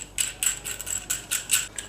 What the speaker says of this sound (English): you can pop your first thread through here like so, and then you put your locking nut on